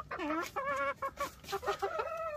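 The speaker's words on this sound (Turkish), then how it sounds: "İki tane tavuğumuz var." Light Brahma chickens clucking close by, a quick series of short, bright, pitched clucks and squawks with no talk over them.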